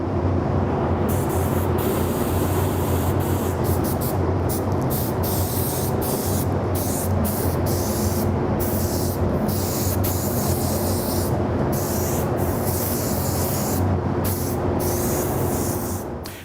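Paint spray booth running for a Boba Fett helmet paint job, a loud steady broadband roar with constant hiss and a low hum, unbroken for the whole stretch with no talk.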